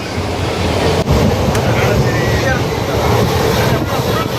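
A passenger train rolls across the Pamban bridge over the sea near Rameshwaram, a loud continuous rumble and rattle of wheels on track heard from aboard, with a couple of sharp clanks.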